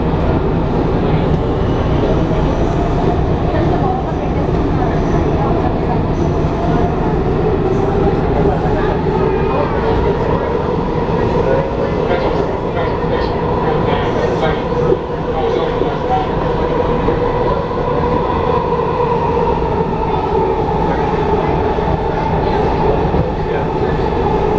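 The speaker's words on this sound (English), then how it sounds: "on silver line train going from Federal Triangle to Metro Center." A DC Metro Silver Line subway train rides underground from Federal Triangle to Metro Center, with a steady, loud rumble and rolling rail noise that continues throughout.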